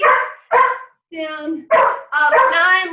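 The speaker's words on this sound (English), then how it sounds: "Sorry for my dog barking." A dog barks several times in short sharp yips between a person counting aloud during a home total-body fitness workout, the barks close and interleaved with the speech.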